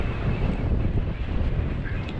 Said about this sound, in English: let's get out this wind